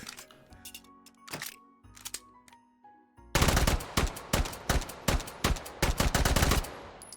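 Rapid automatic fire from a modded gun in H3VR, a fast loud burst of shots dumping the magazine after a few quieter clicks and handling sounds, close and with no talking.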